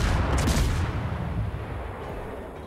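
A heavy naval gun salvo from the Yugumo destroyer in World of Warships, opening with a loud rumbling blast that slowly fades into a long, dense roar with no voices.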